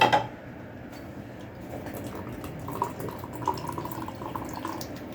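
A kitchen tap runs steadily while koshari dressing is made with vinegar and water, a constant close splashing hiss with a few faint clinks of dishes and no talking.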